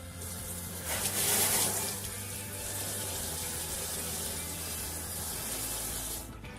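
Water running steadily from a faucet through an ionizer adapter, a close, continuous hissing splash that swells briefly near the start and then holds steady before cutting off at the end.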